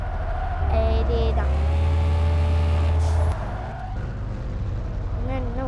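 In a car club video game, a car engine drones with a low, steady hum that shifts in pitch as the car drives forward and reverses. Someone talks over it throughout.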